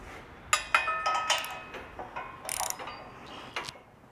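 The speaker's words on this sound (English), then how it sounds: "So I'm going to tighten these bolts that I put into the auger" A wrench ratchets while tightening 3/4 bolts on the auger of a County Line PHD 100 post hole digger mounted on a Kubota BX 2380: a handful of quick metallic clicks and ticks come in short bursts, close and fairly quiet.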